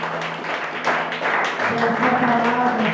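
A church congregation applauds during a family worship service, steady clapping filling the room with a sustained tonal hum or instrument and some voices mixed in underneath.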